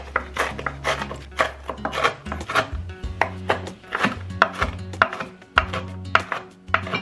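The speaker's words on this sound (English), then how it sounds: "I diced up the onions, the peppers, and the broccoli really small, and I'm gonna do the same for the bacon" A knife dices bacon small on a cutting board for make-ahead breakfast freezer meals, giving quick, uneven bursts of close, crisp chops with short pauses between runs.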